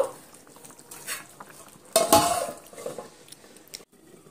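A spoon stirs lentil fritters into a ridge gourd and potato curry in a pan, giving soft clinks and scrapes with one louder, sharper scrape midway, otherwise fairly quiet.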